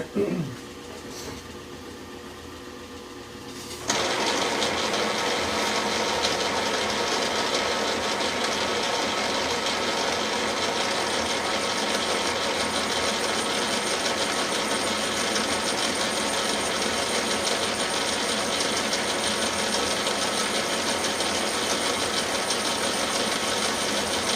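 A shell mill cutter spins up on a Cochrane Bly milling machine after a few seconds of quieter handling sounds, then runs as a loud, steady mechanical whir with a fine rattling texture until the end.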